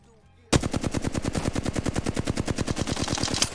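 Sustained automatic rifle fire in a shooter game during recoil-control practice: a rapid, even stream of about thirty loud shots lasting roughly three seconds, beginning abruptly after a brief quiet moment.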